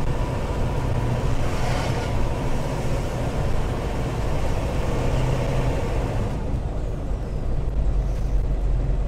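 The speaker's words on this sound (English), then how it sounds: "Now you can hear the 4-speed transmission shifting." An AM General Hummer H1 with a four-speed transmission drives along, its engine droning loud and close with road rumble and a shift in tone partway through.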